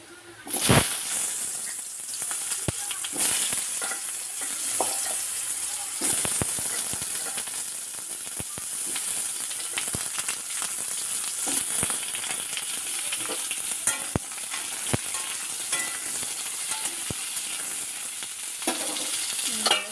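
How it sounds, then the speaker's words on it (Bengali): Steady, loud sizzle of potatoes frying in hot oil in a wok, with scattered crackles and occasional stirring over a continuous spitting hiss. "এদিকে আমার তেলটা গরম হয়ে গিয়েছে এবার আমি আলুগুলো ছেড়ে দেবো"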